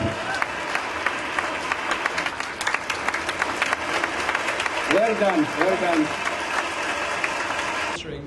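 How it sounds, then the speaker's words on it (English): Audience clapping fills a solar carport launch event after a cake cutting, a steady dense applause throughout with a voice speaking briefly over it midway. "Can we clap?"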